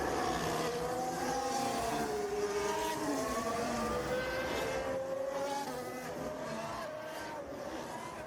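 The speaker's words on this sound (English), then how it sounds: "The safety car's not going full gas down the straight" A Formula 1 safety car circulates the Abu Dhabi circuit in 2021, its engine note rising and falling through gear changes, somewhat distant and fairly faint.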